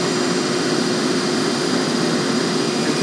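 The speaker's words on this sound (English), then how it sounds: "Since there's four elevators, there's four motor generator sets, and they've just been sort of limping this by to keep it running" Motor generator set for a 12-story dormitory elevator, a three-phase motor driving a DC generator, running with a loud, steady, dense roar and hum that stays even throughout with no talk.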